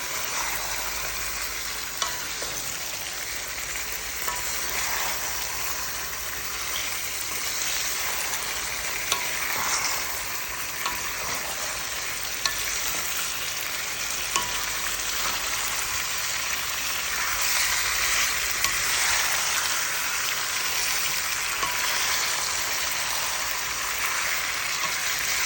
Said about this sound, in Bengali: এখন চিকেনগুলো দিয়ে দেব। এই এখন ভালো মতো কষাবো।